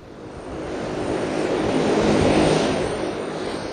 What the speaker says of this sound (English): The first planes arrive and take off today from the Ottawa Airport's new wing.